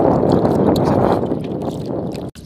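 Strong wind at sea while fishing from a boat off Tawi-Tawi, a loud low rumbling buffet against the microphone with a sharp drop near the end, no speech over it.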